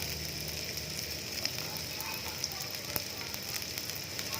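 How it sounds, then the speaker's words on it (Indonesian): Chopped red onion hits hot cooking oil in a pan and fries with a dense, steady crackling sizzle, close and even throughout, with small pops scattered through it and no voices. "Setelah minyak goreng kita masukkan bawang bombay merah pemirsa yang sudah dicincang"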